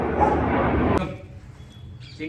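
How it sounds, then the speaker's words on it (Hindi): Dogs, one of them a Labrador puppy, growl and bark close by in a loud, rough burst lasting about a second, followed by near quiet. "ये जैसे पास जा रहा है ये मस्त गुर्रा के भगा दे रही है इसको"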